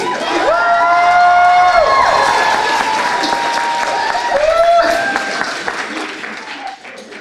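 An audience applauds and cheers after a high school stage play, dense clapping with whoops and shouts, with a voice calling over the crowd at times, fading slightly toward the end.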